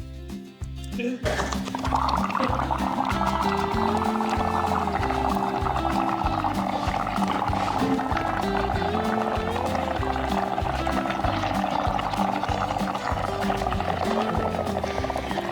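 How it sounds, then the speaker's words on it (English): Air is blown through a straw into liquid pottery glaze, making a continuous loud bubbling gurgle close to the microphone that goes on for many seconds after a brief start. "So we're going to literally blow bubbles in here, and they're going to overflow."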